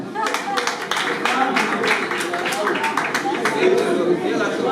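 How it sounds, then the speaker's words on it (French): An audience at a stand-up comedy show at a party claps and cheers for the women in the room, a lively spread of crowd clapping with chatter mixed in. "Alors, acclamez pour vous les femmes."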